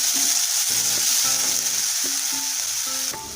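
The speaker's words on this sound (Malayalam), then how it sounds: "ഇതിൽ കുറച്ച് 1 സ്പൂണ് ജിഞ്ചർ ഗാർലിക് പേസ്റ്റ് ഇടുക, നല്ലോണം ഒന്ന് ഇളക്കി കൊടുക്കണം." Ginger garlic paste sizzles steadily in a hot pan for a chilli chicken dish, with a bright continuous hiss throughout while a spoon scrapes and stirs in short repeated strokes; no one speaks.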